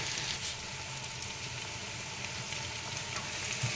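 Ginger garlic paste and turmeric fry in a pan for egg biryani, a soft, even sizzle that continues throughout at low volume with light crackling.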